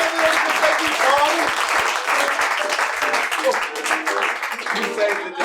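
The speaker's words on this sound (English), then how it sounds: "Give a round of applause." Audience applause for Tom at a puppet comedy show, dense sustained clapping from a crowd filling the room, steady and loud throughout.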